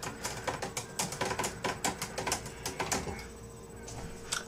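A typewriter is typed on in quick, uneven bursts of sharp, close key strikes that ring out clearly for about three seconds before easing into a quieter stretch.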